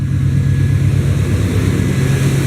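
An NHRA race truck engine idles steadily and loudly with a deep, even rumble that holds constant throughout, up close, with no voices.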